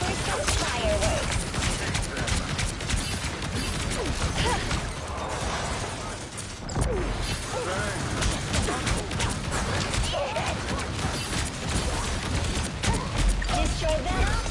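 Repeated fireworks-style bursts from a hero's ability in the shooter game Marvel Rivals, a dense crackling fusillade over continuous battle noise that runs loud and busy almost throughout, dipping briefly midway.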